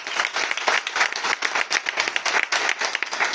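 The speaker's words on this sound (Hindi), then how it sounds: "तो एक बार तालियां इनके लिए जिन्होंने बनवाए।" An audience at an indoor meeting gives a short, dense round of applause, steady clapping from many hands close by.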